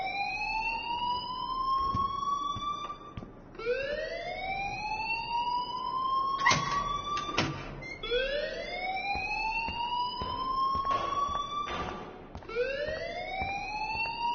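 An alarm blares in the video game Life Is Strange, a loud rising siren sweep repeating every few seconds, with a few sharp bangs and knocks breaking through between cycles.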